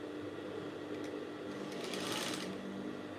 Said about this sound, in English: I'm going to stitch the whole of this point like this from the shoulder.